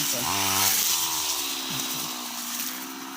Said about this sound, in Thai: พาหลานมาตัดหญ้า